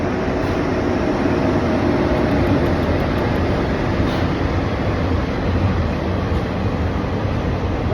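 A long freight train hauling cargo rumbles past houses beside the railway, a loud, steady roar of wheels and wagons close by and unbroken.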